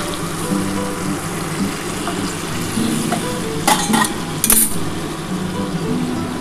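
Hot water poured into a bubbling mutton, papaya and potato curry gives a steady close bubbling sizzle, with a couple of brief louder splashing bursts midway.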